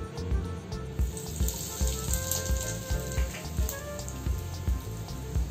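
Asafoetida dropped into slightly cooled hot oil gives a steady, soft sizzle with faint crackles, continuous and close, with no voices over it.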